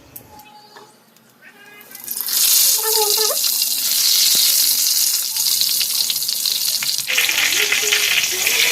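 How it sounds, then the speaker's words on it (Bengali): Marinated eggplant slices hit hot oil after a quieter opening with a brief voice and faint meow-like sounds, and a loud, sustained sizzle follows, broken by a few clinks of the pan. "বন্ধুরা, আমার বেগুনগুলো ম্যারিনেট হয়ে গেছে, আমি এবার ভেজে নেব।"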